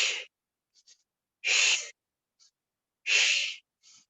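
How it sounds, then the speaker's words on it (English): Forceful, breathy exhalations during a morning yoga exercise, three strong rushes of air at a slow, even rhythm, close and clear, with faint softer breaths between them. "Inhale, exhale, inhale, exhale."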